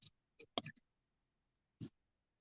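Scissors trimming paper for an art journal page give a quick cluster of close, crisp snips, then a pause and one more cut.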